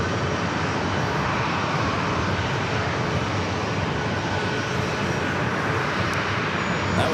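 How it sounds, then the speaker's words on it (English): A JetBlue Airbus A321 jet airliner arriving from Boston at San Diego airport gives a loud, steady broadband roar of jet engines that holds through the whole stretch with no talk. "That was a JetBlue flight coming up from Boston, flight 219 to A321"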